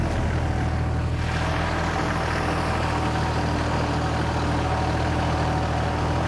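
A subcompact tractor with a 3-point-hitch 12-inch single bottom plow runs steadily, its engine a loud, continuous low rumble with no voices.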